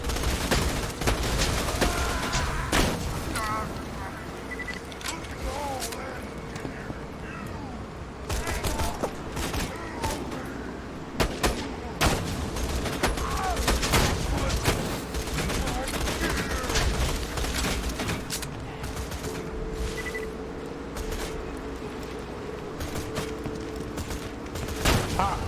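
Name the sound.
gunfire from a sniper rifle in an Xbox video game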